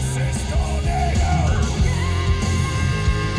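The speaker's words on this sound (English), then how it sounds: "that's a good scream" A sustained screamed vocal rides over dense, loud distorted guitars and pounding drums in a heavy rock song built on four guitars.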